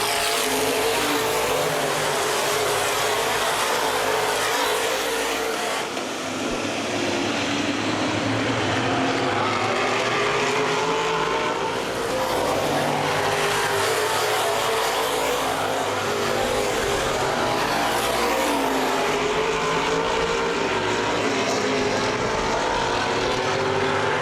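Open-wheel modified race cars roar off the green flag at Baer Field Speedway, a dense, loud blend of many engines droning continuously with shifting pitch as the field passes, no voices heard.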